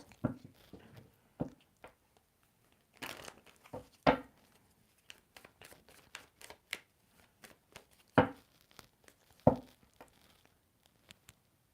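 Tarot cards are shuffled in short bursts of riffling and slapping, with brief quiet gaps between, close and fairly soft.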